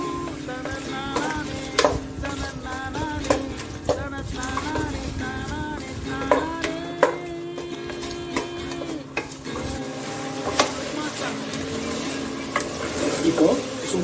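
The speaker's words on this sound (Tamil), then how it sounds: "தக்காளி நல்லா வதங்கணும்" Tomatoes sauté in a pan for a chicken biryani, with repeated spoon scrapes and clanks against the metal over a low sizzle and a continuous tonal background.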